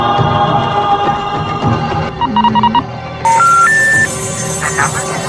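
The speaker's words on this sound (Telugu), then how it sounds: "రే శశి, ఒకసారి ఫోన్ చేయరా." Mobile phone dialing tones in a short film set in a forest, with a few stepped beeps at rising pitches over background murmur and faint voices.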